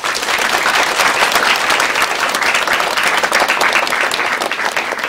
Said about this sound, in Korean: 첫 번째 강의부터 그럼 큰 박수로 청해 듣겠습니다.